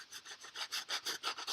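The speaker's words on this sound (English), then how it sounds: "I got to sand it down" A sanding brick rubs back and forth over a latex-patched surface in about nine even, close rasping strokes at a steady rhythm, with no talk.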